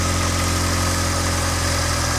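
A Mk2 VW Golf GTI 16V idles during a fuel adjustment for running rich, its engine throbbing close and loud in a steady low pulse with a constant hum, no voices over it.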